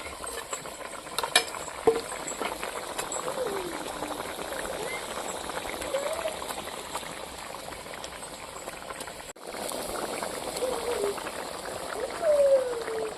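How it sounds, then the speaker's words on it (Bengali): Cauliflower curry broth with dried Bhola fish bubbles in a pot, a close, continuous boil with occasional utensil clinks and stirring. "ঝোল ফুটে গেছে, এখন আমি ভোলা মাছের শুক্তোগুলো দিয়ে দেব"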